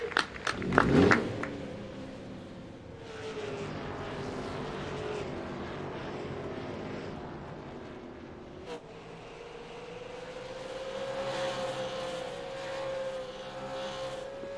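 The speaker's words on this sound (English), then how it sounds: "Drivers, start your engines." Race car engines revving up at the start of a Petty Raceway online racing series event, a sustained engine drone with rising and falling pitch after a brief sharp burst, steady and moderately loud.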